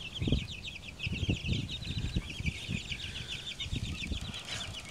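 Black Australorp chickens cluck in short bursts and flap their wings close by, with a steady chirping chorus of birds running through the background.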